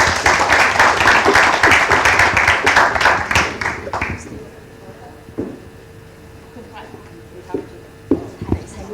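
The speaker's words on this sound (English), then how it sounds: "And a round of applause indeed." Audience at a Sustainability for Business Forum meeting room breaks into dense, fairly loud clapping for about four seconds, then it fades out, leaving a quiet room with a few scattered knocks and thumps.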